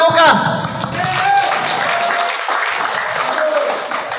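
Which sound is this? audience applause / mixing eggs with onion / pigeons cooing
audience applause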